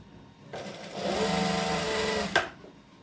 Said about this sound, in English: So I'm just stitching it to that same edge.